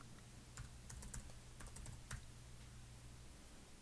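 Short bursts of keystrokes on a computer keyboard typing a search term into an editing program's effects panel, quiet and close, with a steady low hum underneath and no voices.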